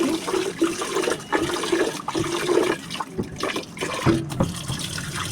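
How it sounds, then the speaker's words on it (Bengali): Rice is rinsed with water in a kitchen. The water pours and sloshes loudly and continuously, with short breaks between swirls and no talking. "এই তো চালটাকে এখন ধুয়ে নেব"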